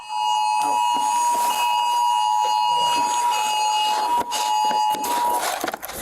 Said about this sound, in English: Seems like they had all their alarms set at the same time.